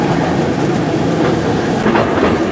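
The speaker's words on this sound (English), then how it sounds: "Like a little jolly on the train. Only goes up and down its own little line" Heritage steam-era railway train, around 120 years old, running along its own short line at Didcot Railway Centre, with a steady close rumble and a continuous rolling clatter of wheels throughout.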